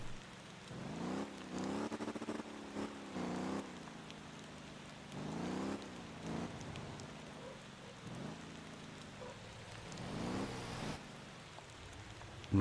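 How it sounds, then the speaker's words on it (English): Steady rain hiss fills the background in the driving game Motor Town: Behind The Wheel while an engine rises and falls in repeated revving bursts, with occasional louder surges. "apparently it's going to rain now"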